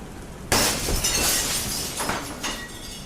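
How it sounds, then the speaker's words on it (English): Glass shatters inside a house with a sudden loud crash, followed by a couple of seconds of scattering, tinkling shards settling nearby. "the sound of glass shattering exploded through the house"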